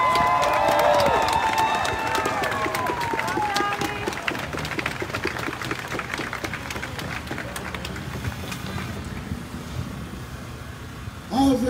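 Crowd applause and cheering at a racial justice rally in downtown Toledo, a dense wash of clapping that starts loud and slowly thins out, with a brief louder burst at the very end.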